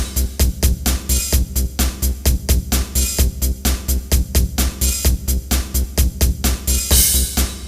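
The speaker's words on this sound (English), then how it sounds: "We're going to put a crash cymbal in on measure 1." A Roland JD-Xi synthesizer plays a rock kit drum pattern, loud and close: a steady driving beat of kick and snare hits with bright crash cymbal splashes, repeating evenly throughout.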